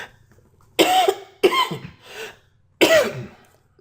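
Three sharp, close coughs ring out in quick succession, the last after a short pause, against a quiet room.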